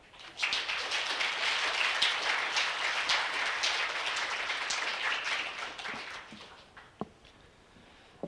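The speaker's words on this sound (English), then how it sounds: "Please give Mr. Daggett a warm round of applause and welcome." An audience gives a speaker, Chris Daggett, a sustained round of applause at a public talk. Dense clapping holds steady for about six seconds, then thins out into a few scattered claps.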